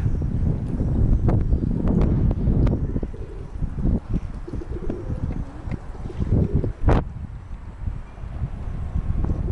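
Wind buffets the microphone on a small fishing boat near a bridge, a loud, gusting rumble with irregular thumps and knocks from the hull, sustained throughout.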